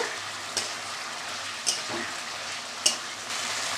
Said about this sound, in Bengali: একটু নাড়াচাড়া করে দিয়ে এবার নামিয়ে নেব।